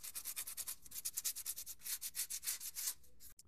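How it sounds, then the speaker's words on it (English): Wet sanding with 2000-grit sandpaper on a painted C-3PO costume foot gives a fast, even rhythm of soft rubbing strokes, close and quiet, ending with a small knock, no voices. "This is a 2000 grit sandpaper, and so you can see that it just makes it nice and smooth"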